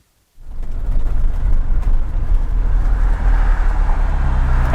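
A Lotus Esprit twin turbo V8 fitted with a new exhaust bursts into a loud, deep rumble after a moment of silence and holds a steady, throaty drone close by.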